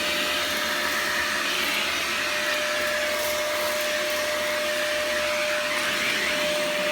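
A green Fantom Wildcat vacuum cleaner running with hose suction, a loud, steady whooshing motor roar with a sustained whine, continuous and close, with no talking.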